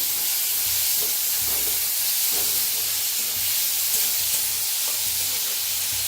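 Finely chopped onion and a pinch of asafoetida fry in a pan, giving a loud, dense, unbroken hiss and crackle close up, with faint stirring underneath.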